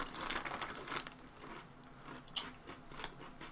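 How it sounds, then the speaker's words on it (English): Close, crisp crunching of Covered Bridge dill pickle potato chips, several quick bites and chews with one sharp snap, heard alone without talk. "Crunchiness makes them better, just like real pickles."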